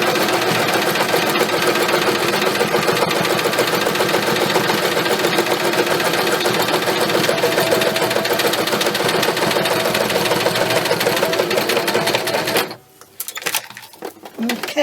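Inexpensive £100 domestic sewing machine stitching with a steady, continuous mechanical whirr and rapid needle rhythm for about twelve seconds, then stopping abruptly, followed by faint handling noise.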